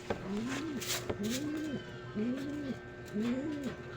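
Pigeons cooing in a steady rhythm, four soft low coos repeating about once a second against a faint background hum.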